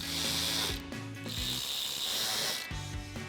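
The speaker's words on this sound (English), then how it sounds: "Now we can reinstall our 7mm screws, their 7mm socket" A ratchet with a 7mm socket clicks in rapid bursts while reinstalling screws on a 2021-2023 Ford F-150 grille guard, two long runs of fast ratcheting separated by brief pauses, close and steady.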